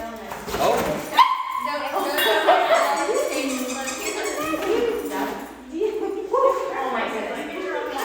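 Puppies at a dog training session whimper, yip and give thin, high whines in repeated bursts, close by and mixed with people talking.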